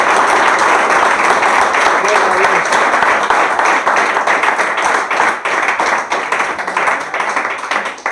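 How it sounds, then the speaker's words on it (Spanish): A church congregation applauds, dense sustained clapping filling the space from start to finish, with voices mixed into the crowd noise. "¿Cuántos le dan un aplauso a Dios en esta hora?"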